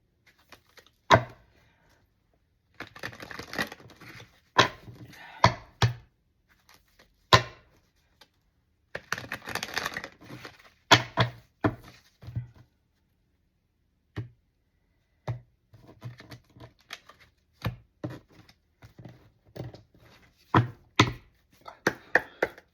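Tarot cards are shuffled in repeated bursts of crisp riffling and sharp taps, with short pauses between, close by and alone.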